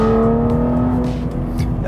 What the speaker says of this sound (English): You can hear that this 8-speed automatic transmission actually shifts quite quickly.